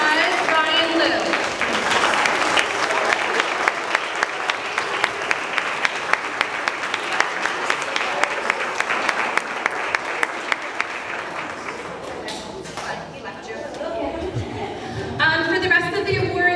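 Applause from an audience at a 5th grade moving-up awards ceremony, a dense sustained round of clapping lasting over ten seconds before fading, with some voices and chatter mixed in near the end.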